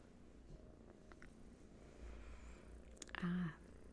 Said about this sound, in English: Cat in my lap named Hattie agrees